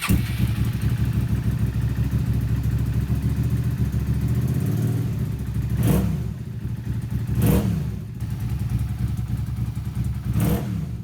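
A Suzuki SV650 motorcycle engine runs after an engine swap, idling with a steady low rumble and revving sharply three times in spaced bursts, close and fairly loud.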